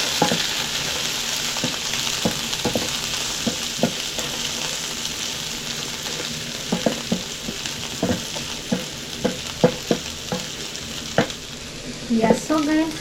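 Onions and coriander stems fry in a pan for a Kenyan wet fry beef dish, a steady close sizzle broken by repeated clicks and scrapes of stirring, the scraping growing busier toward the end.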